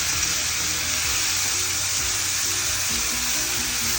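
Amaranth greens hitting a hot pan for a South Indian soppu sambar, giving a steady, loud broadband sizzle that holds without pause, with faint low stirring knocks underneath.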